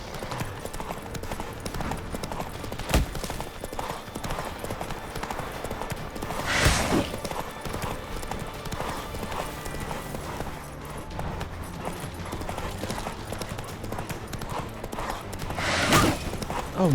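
Horse hooves galloping in The Witcher 3, a steady rapid clip-clop throughout with a few sharp impacts, under game sounds with occasional voices.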